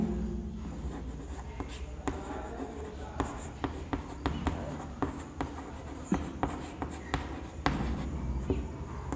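Chalk or marker taps and scratches on a board during a chemistry lesson on unit cells, in rhythmic close strokes over steady room noise.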